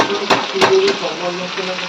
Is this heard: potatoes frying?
yes